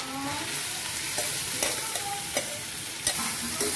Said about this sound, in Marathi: आता गाजर ऍड करायचे तुपामध्ये।